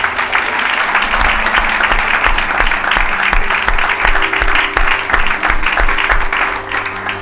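A church congregation at a gospel service breaks into loud, sustained applause, dense clapping running steadily for about seven seconds before easing slightly at the end.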